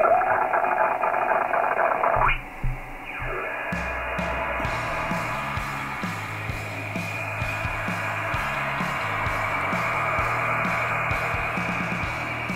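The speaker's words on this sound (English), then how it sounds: "there's some bloody weird signals you can hear when you spin around your radio." Odd radio signals while tuning across the band: loud static that shifts abruptly as the dial turns, then settles into buzzing, stuttering pulses and rhythmic clicking interference, with no speech.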